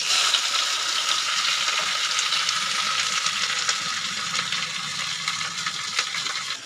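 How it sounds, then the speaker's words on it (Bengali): Onions hit hot oil where black cumin seeds have been tempering, giving a steady, loud, close sizzle and crackle that holds evenly throughout with no voices. "দিয়ে এবার ওর মধ্যে আমি পেঁয়াজটা ঢেলে দেবো"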